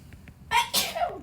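A single loud, close sneeze bursts out indoors during an algebra lecture, a sharp inhale followed by an explosive two-part release that trails off.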